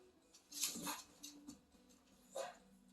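A dog whimpers and yips during a gentle yoga session, a few short high whines in brief bursts near the start and again later, fairly close but quiet, with no talking over them.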